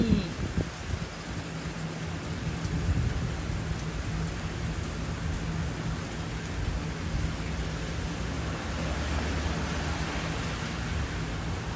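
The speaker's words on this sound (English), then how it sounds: "How water is falling from the roof, upward to downwards." Heavy rain in Ottawa, Canada pours steadily from a roof in a dense, continuous hiss with water splashing below, loud and close throughout.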